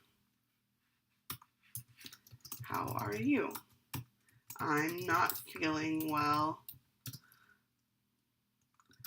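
Light clicking of keys on a computer keyboard, scattered taps between and under two people speaking briefly.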